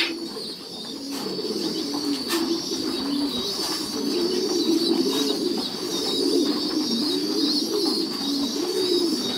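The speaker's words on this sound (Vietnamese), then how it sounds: "Chim non bắt đầu vào mồm chim mẹ là ăn rồi." Pigeons coo in soft, repeated low phrases while parent birds feed their chicks, with a few faint chirps and light wing flutters over a steady background hum.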